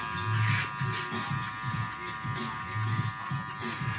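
Electric hair clippers cutting hair in a barbershop: a close, continuous motor buzz with a steady hum that fluctuates slightly as the blades move through the hair.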